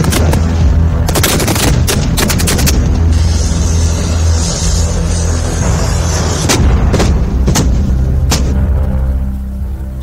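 Indian Army artillery and gunfire during the Desert Strike exercise at the Pokhran field firing range in Jaisalmer, with loud repeated booming blasts and rapid bursts of shots over a continuous rumbling roar.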